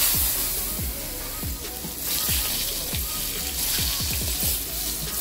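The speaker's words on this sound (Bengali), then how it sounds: "আর আমি এদিকে তেল দিয়ে দিলাম, আরও কিছুটা সর্ষের তেল, আর তার মধ্যে দিয়ে দেব কেটে রাখা আলুগুলো।" Cut potatoes sizzle and crackle in hot mustard oil, a steady close frying hiss punctuated by repeated popping spits throughout.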